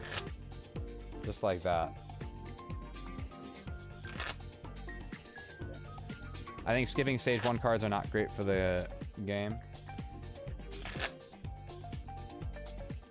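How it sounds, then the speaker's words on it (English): Pokemon cards are shuffled by hand in bursts of quick riffling and flicking, close and crisp, while a person talks over and between the shuffles. "I'm shuffling them."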